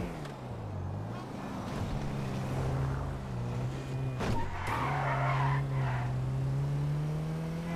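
Car in the game GTA Online driving with a steady droning engine note and drawn-out tire squeals as it skids and slides, the engine pitch rising and falling throughout.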